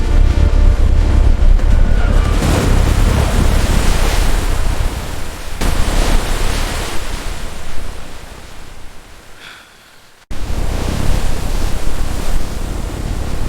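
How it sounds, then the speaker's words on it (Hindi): Steady broadband rushing of flowing water, loud and continuous, dipping briefly near the end before resuming at full strength. "पानी फिर से बहने लगता है"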